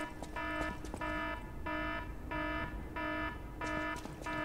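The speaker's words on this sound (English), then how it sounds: "That's the iPhone, like, alarm." An iPhone alarm chimes in a rapid repeating pattern, about seven short bright tonal bursts with brief gaps, sounding fairly faint over low background noise.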